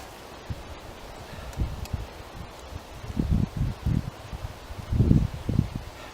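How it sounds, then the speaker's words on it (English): Gusts of wind blow through bushes on Winter Hill near Rivington Pike, rising in uneven rustling surges and buffets that grow louder toward the end. "It's a bit too windy in this spot."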